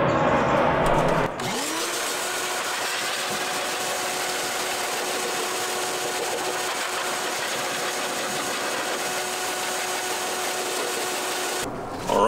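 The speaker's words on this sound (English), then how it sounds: "I'm gonna do the shop vac here" A shop vac sucks dust out of a PC, its loud steady whine starting abruptly after a brief noisy moment, holding a sustained tonal roar for about ten seconds before cutting off.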